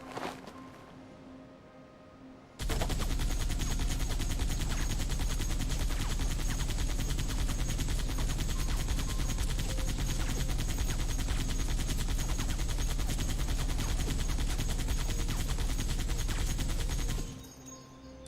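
Modded weapon in Halo 3 firing nonstop as a dense, loud burst of rapid shots that runs until the gun overheats, then cuts off abruptly.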